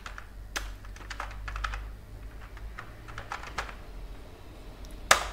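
Keys clatter on a computer keyboard as a name is typed into an account sign-up form, a quick irregular run of close clicks with a sharper tap near the end, no voices.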